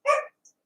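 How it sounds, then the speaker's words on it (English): A single short dog bark, close and fairly loud, followed by a faint brief squeak, then quiet. "No barking."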